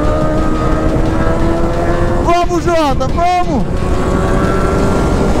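A new motorcycle on a track revs and accelerates with a rising, wavering engine whine that climbs through a couple of quick gear changes, while a nearby voice shouts encouragement over a constant background roar.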